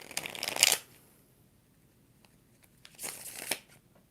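Tarot cards being riffled by hand in two quick, crisp shuffles, close and distinct, separated by a quiet pause.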